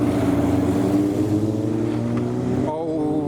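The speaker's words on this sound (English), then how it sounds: "I think it's straight piped or close to being straight piped with that Koenig kit." A straight-piped flat-six classic with a Koenig kit rolls past leaving a car meet, a loud droning engine note with rising harmonics close by, then a quick throttle shift near the end.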